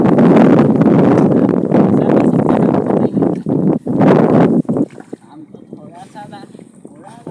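A boat moving on the Dhansiri river, with a heavy rumbling rush of wind and water that eases off before people start talking.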